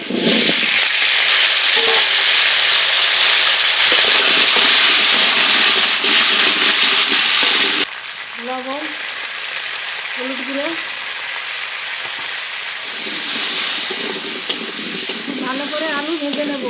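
Potatoes frying in mustard oil in a wok give off a loud, roaring hiss for several seconds. The hiss then drops to a quieter, steady sizzle with faint voice-like sounds nearby.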